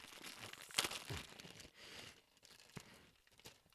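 A plastic bag of Hershey's Kisses Snickerdoodle cookies is pulled open by hand without scissors, giving quiet crinkling and tearing with a sharper rip near the start and softer rustles after.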